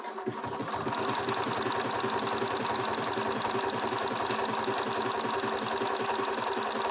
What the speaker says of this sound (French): Je replace mon tissu et je viens commencer la couture.